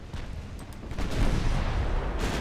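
Warship guns boom in a naval battle in the game Ultimate Admiral Dreadnoughts, with rumbling, overlapping blasts that swell into a continuous roar of fire, loud and dense with no pauses.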